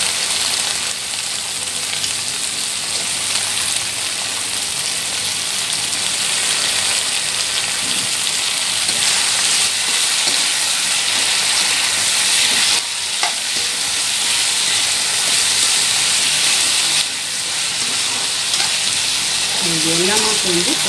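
Drumstick and brinjal sautéing in a hot pan with a loud, continuous sizzle and frying hiss, broken now and then by the scrape of stirring, steady and close throughout.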